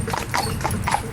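A Friesian horse walking in harness on cobbles, its hooves clip-clopping in a steady, even rhythm at close range, with a busy low background rumble behind it.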